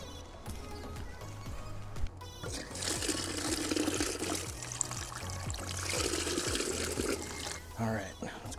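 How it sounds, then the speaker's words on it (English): Water pours steadily into a backpack lawn sprayer, a continuous splashing trickle that rises and falls, heard up close alongside low mechanical pulsing and short handling clatters. "So let me get some water in here."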